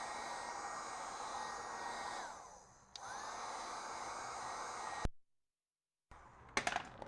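A heat gun blows hot air onto tinted film laid over a 2017 Lexus IS 350 tail light, a steady broad whoosh that dips briefly, cuts out, then returns with a few sharp clicks and rustles near the end.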